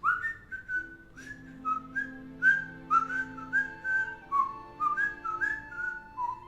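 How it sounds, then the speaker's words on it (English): A person whistles a lively tune alone, a string of clear, bright notes in quick phrases with brief pauses, close and steady over a soft background. "Tilt seems to just be whistling."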